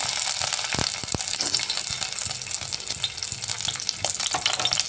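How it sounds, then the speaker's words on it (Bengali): Potato pieces frying in hot oil in a kadai for aloo dum, giving a close, continuous crackling sizzle with scattered sharper pops and spatters. "আলুটা আমি ফ্রাই করব সাইডে লাগবে না আলুগুলো এক এক করে দিয়ে দিচ্ছি"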